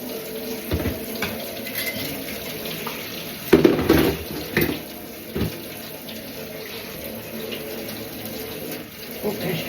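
Tap water runs into a washing-up bowl in a home sink, a continuous close splashing stream with a few louder clatters of dishes being handled partway through.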